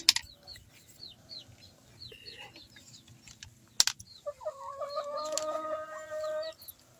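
Chickens clucking close by, a series of short repeated clucks and calls with a longer drawn-out cackle near the end, over quiet background.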